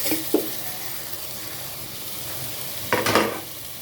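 Watermelon rind curry with onion, tomato, garlic and lentils stirred in a pan, a soft frying hiss throughout punctuated by two sharp scraping stirs, one early and a longer one near the end.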